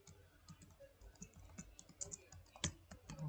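Someone types a full name on a computer keyboard, a quick run of close, crisp key clicks with uneven rhythm and a louder keystroke near the end, no voices.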